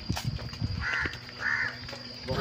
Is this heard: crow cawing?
yes